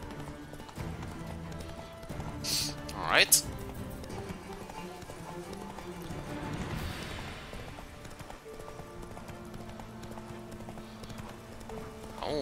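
In the game The Witcher 3, a horse gallops with a steady clip-clop of hooves amid wind and ambient noise, with a brief whoosh and a short spoken word.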